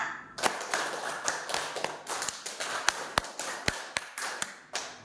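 A group of school staff clapping a rhythmic pattern of five claps done twice, uneven and not quite in unison, with sharp close taps standing out over a softer spread of hands.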